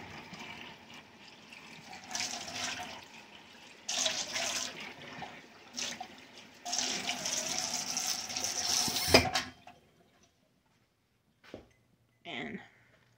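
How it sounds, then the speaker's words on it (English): Water running from a tap to rinse out a cup, several short splashing bursts that gurgle and stop, followed by silence and a couple of brief faint clinks. "I just rinse it out."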